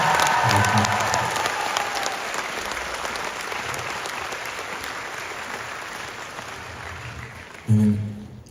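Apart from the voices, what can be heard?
concert audience applause in Shymkent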